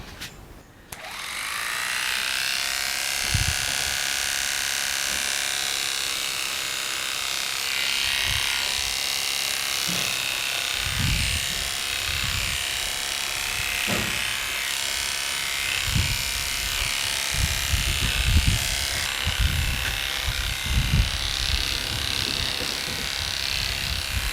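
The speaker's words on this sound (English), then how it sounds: "I'm going to trim down the flat part of his head and his ears with a clipper" Steady electric clipper fitted with a 3mm head, buzzing continuously while trimming the flat top of a Bouvier des Flandres' head and ears, with soft bumps and handling noises during grooming.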